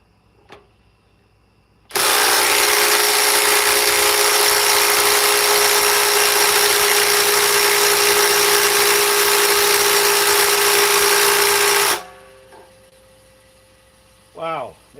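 An impact wrench spins an impact-ready socket in one steady, loud ten-second run with a constant whine and hum, starting and stopping abruptly, followed by faint clicks and a short squeak.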